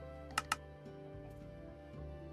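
The caps lock key on a computer keyboard is pressed, two crisp, quick clicks close together, faint against a low, steady background of game music.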